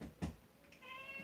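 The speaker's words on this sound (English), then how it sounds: "She's an adorable black cat." An elderly black cat meows: one short mew followed by a longer, drawn-out meow nearby in a quiet room.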